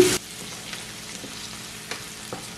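Maldive fish sambal ingredients sauté in oil in a pan, giving a steady, soft crackling sizzle, close by, with a brief louder burst at the start and a few light stirring scrapes.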